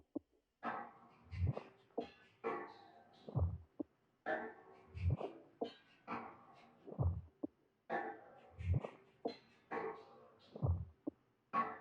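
A drum loop made in FL Studio repeats a steady pattern of deep kick thumps and snappier hits, with a short echo tail, playing alone and fairly softly.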